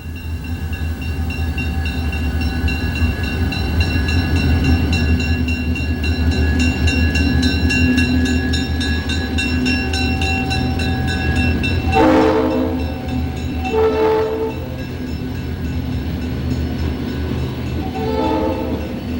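Wisconsin Central freight train pulled by GP30 locomotives rolls steadily past at close range with a loud, continuous rumble, then sounds three horn blasts near the end.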